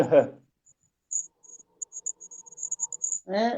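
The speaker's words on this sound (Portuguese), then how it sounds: "Parece que tem um grilo." A cricket's high, thin chirping comes through as interference on a live online call, in short, faint pulses that grow quicker and denser, set between bits of speech at the start and end.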